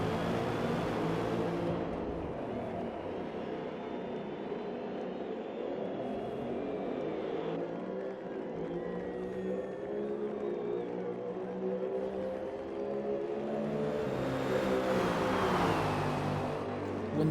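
BMW and Lexus GT race cars at Silverstone in a racing video game scream past in a steady, loud engine drone, with rising pitches as they accelerate out of corners and a louder surge near the end.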